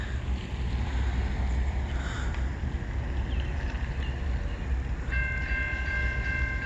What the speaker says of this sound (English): But here's the second train.